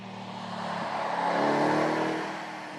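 A 2012 Morgan with a powerful eight-cylinder engine drives along, its engine note rising to a steady, loud roar with a low harmonic drone before easing slightly.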